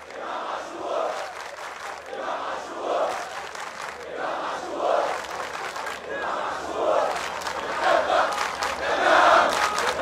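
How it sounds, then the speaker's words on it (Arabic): Zamalek football fans chant together in a large crowd, rhythmic swelling waves of voices that rise and fall steadily and grow louder toward the end. "اسمعوا الجمهور الحقيقي يا جماعه"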